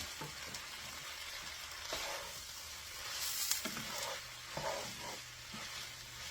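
Meat and sausage grease fry in a pan for drunken noodles, giving a quiet, steady sizzle with intermittent scrapes and clatters of a utensil stirring.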